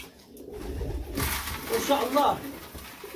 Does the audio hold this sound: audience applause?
no